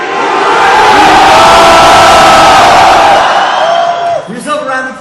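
A convention audience on its feet roars a loud, sustained group battle cry together, one massive shout held for several seconds before breaking off into scattered cheers.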